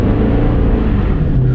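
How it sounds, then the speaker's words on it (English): A V8 four-wheel-drive vehicle's engine pulling under acceleration, a loud, steady, smooth low rumble held close throughout with no voices. "Listen to that engine. That is a smooth engine."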